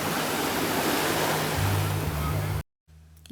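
Surf and waves wash steadily onto the beach at Princess Cays, a private Caribbean island used by Princess Cruises, with constant wind noise. The sound cuts to near silence near the end.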